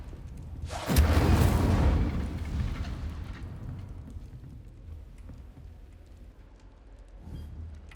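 Incendio fire spell in Hogwarts Legacy going off as a single loud, booming fiery blast that decays slowly into a rumbling crackle, followed later by a fainter second burst.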